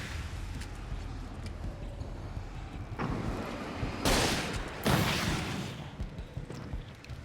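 Shotgun fire in Alan Wake's American Nightmare, a few heavy booming blasts over a loud, rumbling game background.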